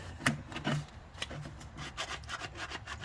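A plastic filler applicator scraping along a Porsche Turbo's surface during detailing, a run of short rasping strokes in a quick uneven rhythm, close and fairly quiet, with no talk.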